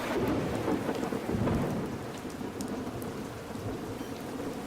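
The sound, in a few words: rain and thunder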